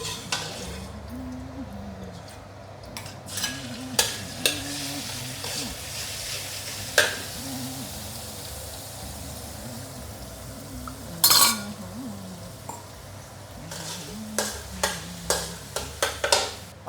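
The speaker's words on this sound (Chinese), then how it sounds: "我就放油来炒这个包菜" Cabbage stir-fries in oil in an unwashed wok for a Buddha's delight dish: a soft, ongoing sizzle punctuated by sharp clicks and scrapes of a utensil, with a voice talking quietly underneath.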